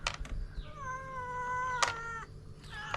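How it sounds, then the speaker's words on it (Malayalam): Stray cats near a house let out a long, drawn-out meow that wavers in pitch, with a few sharp clicks and taps before and after it. "ഇതൊക്കെ എവിടത്തെ പൂച്ചകളാന്തോ."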